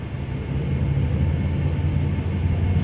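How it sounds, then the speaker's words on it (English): Steady low rumble and hum of a Boeing 757's left engine spooling up during start in Flight Simulator X, continuous and fairly loud with no talk. "We'll go ahead and start the left engine."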